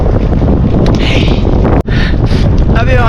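Strong headwind roars steadily across the microphone on a flat-road cycling ride at about 17 to 18 miles per hour, loud and unbroken apart from one brief dropout.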